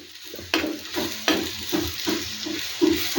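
Chopped onion hits hot oil with a sharp burst of sizzle, followed by repeated scraping strokes of stirring and a continuous close frying crackle that swells with each push of the spoon.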